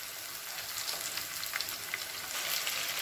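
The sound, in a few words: quail pieces frying in a pan for quail curry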